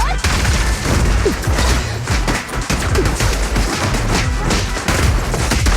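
Dense, continuous gunfire and booming impacts from combat in the Zenless Zone Zero video game, loud and rapid throughout with some voice mixed in.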